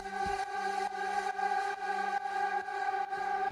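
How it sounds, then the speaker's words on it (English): A sustained synth chord pulses in soft repeated swells, its tone dark and muted, washed in a dull, filtered reverb tail. "I've filtered it with a high cut, so it's got a muted reverb type sound"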